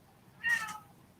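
A single short cat meow rises clearly over a quiet room background, close and fairly loud, with no talking during the call.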